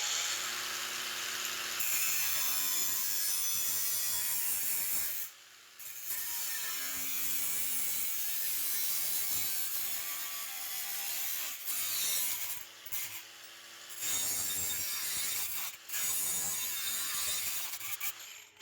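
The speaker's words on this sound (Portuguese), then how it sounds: "Eu tô cortando, afundando o disco completamente aqui no metal." A brushless battery angle grinder with three speeds cuts through 30x30 steel tubing, its disc sunk fully into the metal, a loud harsh grinding whine broken by several short pauses as the cut is stopped and restarted.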